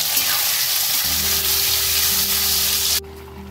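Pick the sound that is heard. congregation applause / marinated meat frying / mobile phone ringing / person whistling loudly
marinated meat frying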